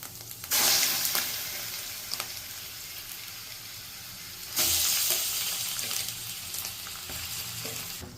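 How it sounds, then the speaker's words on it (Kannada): Half a kilogram of washed chicken pieces hitting a hot pan with curry leaves for a Mangalore-style chicken curry, a loud sizzling hiss that surges twice and settles into steady frying, with light stirring clatter. "ಆಗಲೇ ತೊಳೆದಿಟ್ಕೊಂಡಿರೋ ಅರ್ಧ kg ಚಿಕನನ್ನು ಹಾಕ್ತಾ ಇದ್ದೀವಿ"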